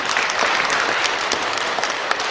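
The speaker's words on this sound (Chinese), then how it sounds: "掌声鼓励一下吧，谢谢。" An audience at a Buddhist lecture on the six perfections bursts into loud, dense applause, a steady roar of many clapping hands that lasts throughout.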